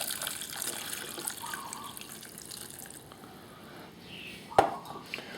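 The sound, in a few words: water poured into pot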